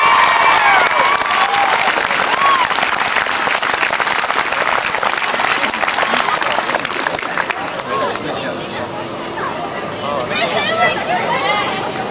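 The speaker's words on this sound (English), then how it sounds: "A big round of applause, please." A concert audience applauds a music school choir and conductor. The loud, dense clapping is mixed with some crowd murmur and cheering, then thins out near the end.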